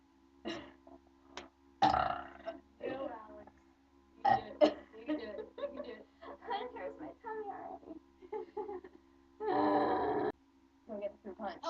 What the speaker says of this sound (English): We're going to make a burping video